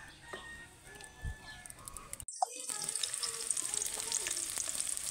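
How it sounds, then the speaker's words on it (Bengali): Eggplant frying in oil in a kadai over a stove: steady, bright sizzling that swells loudly after a brief pause, preceded by softer clattering and liquid sounds, with no voices. "তো এখন আমি কড়াইতে তেল দিয়ে দিব। আগে বেগুন রান্না করে নিব"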